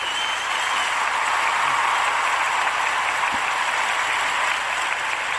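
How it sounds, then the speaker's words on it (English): Recorded applause sound effect from a crowd, a dense continuous wash of many clapping hands, steady in level for several seconds with no talk over it. "Here were the claps that I used."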